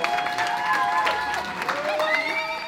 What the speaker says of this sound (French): Je demanderai un petit tonnerre d'applaudissements pour tous ces PNJ